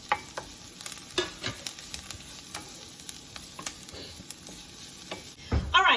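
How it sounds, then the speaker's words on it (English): Chopped garlic sizzles in a hot pan with onions for a keto Spanish-style cauliflower rice, a steady crackling fry broken by sharp scrapes and taps of a stirring utensil, close and continuous, with no talking. "We're going to go ahead and add our garlic in"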